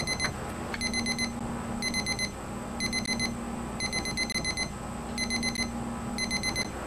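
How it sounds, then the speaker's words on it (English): A pager beeps in repeated clusters of rapid, high electronic tones, evenly spaced across several seconds over a steady low background hum. "Oh, my beeper."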